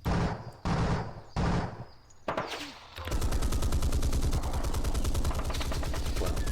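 Gunfire in the wargame Panzer Campaigns Kiev '43: three loud separate bursts, then a dense, steady rattle of rapid automatic fire that runs on without a break.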